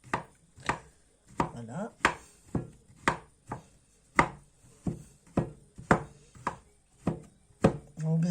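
Repeated sharp knife chops on a board as an ingredient is crushed for a vanilla ganache cake cream, about a dozen evenly spaced, close and crisp, with a brief voice near the start.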